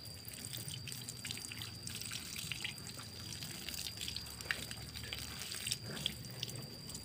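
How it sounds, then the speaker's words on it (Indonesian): Water runs and trickles while a motorbike gear is rinsed after scrubbing, making a faint, continuous splashing flow with scattered drips. "Setelah itu bilas pakai air."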